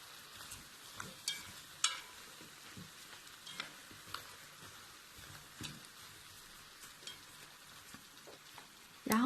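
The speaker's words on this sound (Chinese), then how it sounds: "接下来我们把土豆和胡萝卜一起倒入锅中。" Potatoes and carrots frying in a pot for Japanese nikujaga give a quiet crackling sizzle, and light pops and stirring clicks scatter through it.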